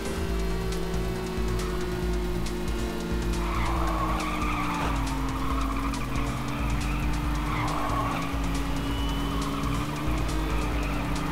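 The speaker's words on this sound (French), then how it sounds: "faut drifter sans se prendre les coins de virage" Car drifting and skidding through corners in the racing video game Little Racers, with a steady engine drone and tire skid noise sweeping up and down throughout, continuous and loud with no talking.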